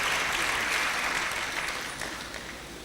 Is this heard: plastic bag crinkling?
no